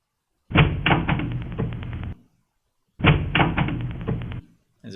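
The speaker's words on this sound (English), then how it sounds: "It's a pretty bad sound, but anyways, is door sound." Two door sound effects for an Unreal Engine video game play in turn, each a loud burst of rattling, clattering knocks lasting about a second and a half, separated by a short silence, with no talk.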